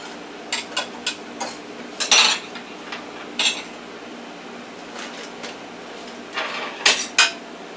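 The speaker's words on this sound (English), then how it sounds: "Let's stir our pudding" A spoon stirs banana pudding in a pot, sharp metallic scrapes and clinks in irregular bursts over a quiet background hum.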